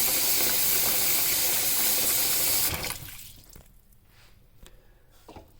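Water running into a cooking pot with rivets at the handle, ready for pasta: a steady hissing gush for a few seconds, then the flow stops, leaving faint drips and small splashes in a quiet kitchen.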